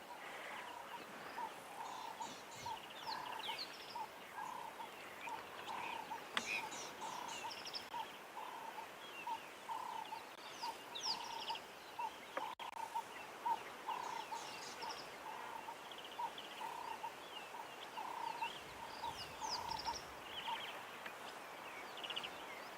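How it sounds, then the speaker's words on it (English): Small birds chirp and call repeatedly in the open at sunset on safari, faint high notes scattered over a soft outdoor background, with no talking. "I can hear a few birds calling."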